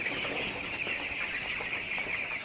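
Chickens in a village poultry shed cluck softly over a continuous bright hiss of background noise, fairly faint throughout.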